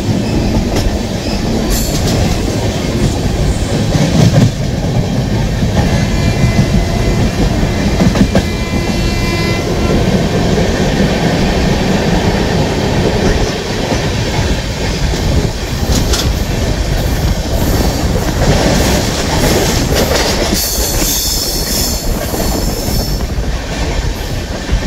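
Train running on rails through rainy ghat hills near Igatpuri, a loud steady rumble with rattling wagons, clickety-clack of wheels and intermittent wheel squeal throughout, heard from on board.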